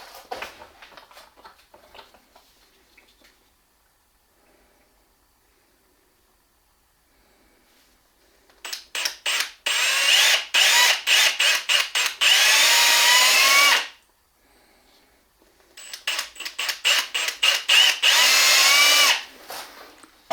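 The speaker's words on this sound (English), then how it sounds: "I'm drilling a little bit at an angle into the wood" A power drill whirs at an angle into wood in two long, loud bursts, each broken by short clicks and stutters, with quiet tapping before the first run.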